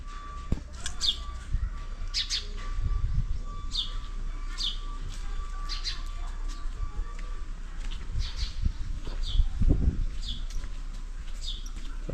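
Birds chirping outdoors on the festival morning of Gudi Padwa, repeated short tweets every second or so at moderate distance over faint background rustle and soft thuds.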